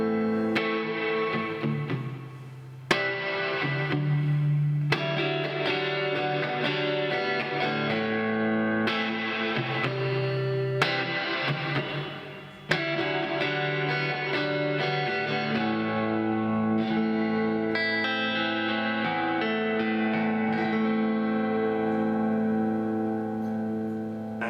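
A Fender Player Telecaster electric guitar, made in Mexico, plays sustained chords through a reverb effect, the notes ringing and blooming into a washy tail, loud and steady with a few sharp re-strikes, no voices.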